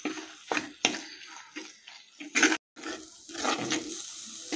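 Filtered water from cooking green peas is poured into a pan of masala curry, with several short splashy pours and clatters in an irregular rhythm and a longer pour near the end.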